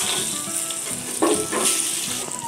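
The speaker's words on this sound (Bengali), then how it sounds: "ওই তেলেতেই আমি এখন এই কেটে রাখা আলুগুলোকে, এই যে লম্বা লম্বা করে কেটে রাখা আলুগুলোকে আমি ভেজে নেব" Long-cut potato slices frying in a kadai of oil, a loud dense sizzle with bubbling crackle that swells briefly midway, close and steady without any voices.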